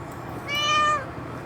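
A single cat meow, clear and fairly close, rising and falling over about half a second against a quiet room background, with no talking.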